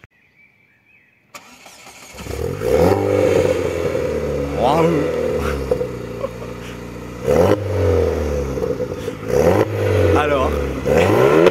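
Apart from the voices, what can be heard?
tuned 450 hp Opel GT engine starting and revving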